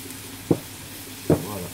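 Chanterelle mushrooms go into a pan of nearly cooked bacon lardons, giving two short, close sizzling bursts over a low background.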